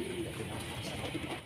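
Pigeons cooing in a loft, soft low coos repeating under a steady hiss of background noise, fairly faint and continuous.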